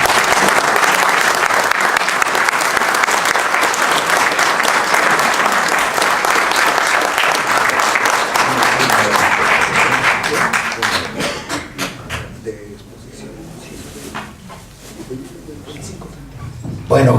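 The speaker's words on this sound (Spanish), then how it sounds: "Pido que recibamos con un caluroso aplauso a Porfirio Muñoz Ledo" An audience gives warm, sustained applause welcoming politician Porfirio Muñoz Ledo to a conversation forum. The loud, dense clapping runs for about ten seconds, then thins into scattered claps and fades.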